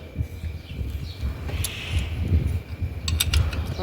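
A double nut is tightened on a boiler feed pump's stuffing box, giving close, quick ratcheting clicks and metallic creaks over a steady mechanical hum, in short bursts without talk.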